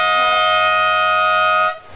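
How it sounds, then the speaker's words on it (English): A siren at a surfing competition blares as one loud, steady electronic tone rich in overtones, holding for nearly two seconds before cutting off abruptly. "So that's the siren sounding."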